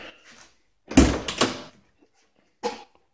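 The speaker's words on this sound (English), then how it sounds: "I moved it over so I can open the door way more." A car door on a 1987 Thunderbird Turbo Coupe being opened, one short clunk followed by brief rattling, then a second softer knock a moment later, close by in a quiet garage.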